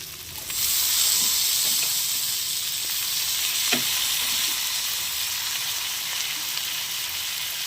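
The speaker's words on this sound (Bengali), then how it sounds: "এবার এটাকে আমি নাড়িয়ে চাড়িয়ে ভাজা ভাজা হলে নামিয়ে নেব" Chopped onion and tomato fry in a large pan with a continuous bright sizzle, stirred now and then with faint scraping scuffs, no voices.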